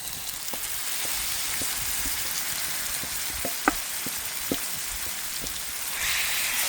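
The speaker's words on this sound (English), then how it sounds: "now I'm going to go in with my mashed eggplant or baigan." Mashed eggplant (baigan) hitting a hot pan outdoors in a backyard for baigan choka, giving a steady, close hiss of sizzling with scattered light crackles and pops and no talking.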